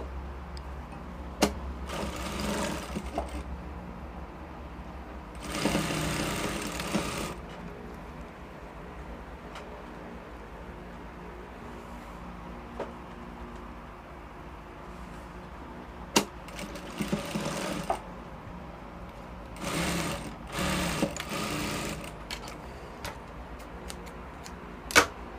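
A sewing machine stitches the front and back of a gown together at the shoulders, its motor whirring in several short bursts of rapid stitching separated by quieter pauses.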